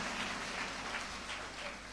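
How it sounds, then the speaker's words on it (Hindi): A church congregation claps in praise, a soft, diffuse wash of many hands heard from some distance, steady for the whole moment without voices. "ताली बजा के प्रभु को धन्यवाद दीजिए"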